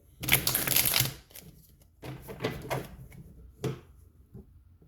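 A tarot deck is shuffled and handled, a dense papery riffle at first, then several shorter card flicks and taps, close and fairly loud, with no talking.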